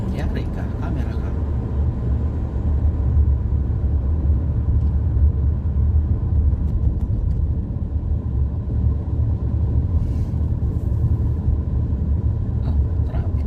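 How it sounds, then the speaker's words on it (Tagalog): Road traffic rumbles at Kamuning, Balintawak, as a steady, loud, low drone of engines heard from inside a vehicle, with a few faint higher sounds breaking through now and then. "Oh, traffic"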